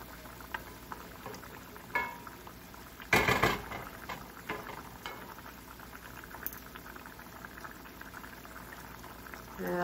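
Potatoes bubble in a pot on a home stove during a Bengali meal preparation, a soft, steady simmering hiss with faint pops and one brief clatter of utensils, heard quietly with no talk.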